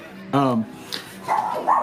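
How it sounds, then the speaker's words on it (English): A nearby dog lets out a strained, whining bark followed by several shorter yelps in quick succession, loud against a quiet indoor background. "Hold on, sorry, dog barking."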